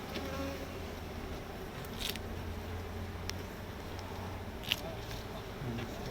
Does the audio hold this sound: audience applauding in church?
no